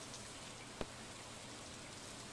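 Steady rain falling in Stardew Valley, a dense even hiss that continues throughout, with one brief soft tap partway through.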